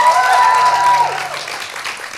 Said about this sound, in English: Come on, a huge round of applause, guys.